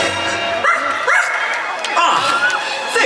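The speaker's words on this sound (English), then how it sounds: "Where is that dog?" A small dog at a Halloween party show yips and barks in short bursts, several sharp calls spread over a few seconds, mixed with a whimper-like tone over busy background ambience.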